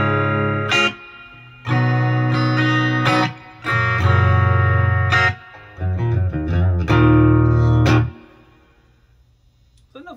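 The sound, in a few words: guitar through Crate G1600xl amp head with reverb on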